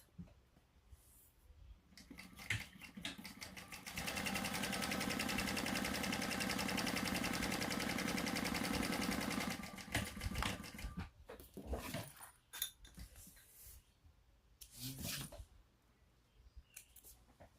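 A sewing machine stitches a basting line on a shoulder bag's lining: a steady, fairly quiet mechanical whir runs for several seconds, framed by softer handling clicks and rustles before and after.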